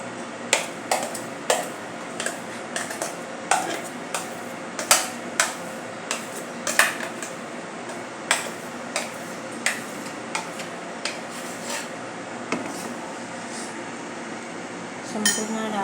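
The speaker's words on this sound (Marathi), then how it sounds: "आता एका बाउलमध्ये काढून घेऊया." Ground lentil paste is scraped out of a mixer jar into a bowl, giving repeated sharp, loud metallic clinks and taps at an irregular rhythm over a steady background hiss, with no talking.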